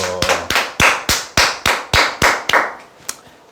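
Audience clapping at the end of a sales lecture; about ten sharp, loud, evenly spaced claps in a steady rhythm, each ringing briefly in the room, then slowing and fading out.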